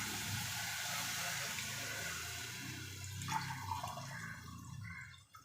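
About one and a half tumblers of water are poured into a pressure cooker for biryani rice, a close, steady splashing gush that tapers off into drips at the end.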